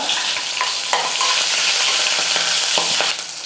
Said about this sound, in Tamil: கடுகு நல்லா பொரிஞ்சிருச்சு ஒரு ரெண்டு பச்சை மிளகா இது கூடவே ரெண்டு வரமிளகா